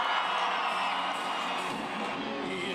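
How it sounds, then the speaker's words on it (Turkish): A crowd applauds and cheers as Haluk Levent arrives at an outdoor event in Yenimahalle, a dense, steady wash of clapping and shouts that holds at an even level for a few seconds. "Haluk Levent geliyor, kocaman bir alkış."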